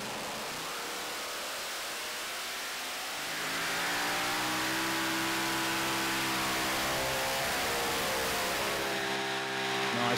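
Tractor engine at the 2018 ETPC Eurocup finals in Great Eccleston, the Intertechno Lambada, revving hard through a full pull, a loud sustained roar that swells after a few seconds and holds strong to the end.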